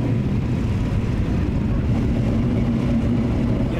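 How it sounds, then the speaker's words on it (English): Ford Mustang V8 engine idling, a loud steady low rumble close by, continuous and unbroken with no voices over it. "It's the V8 engine"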